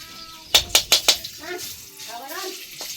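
Fried rice stir-fried in a pan for a family meal, with four quick, sharp scraping clatters of a spatula on metal, then softer stirring and sizzling as a voice speaks.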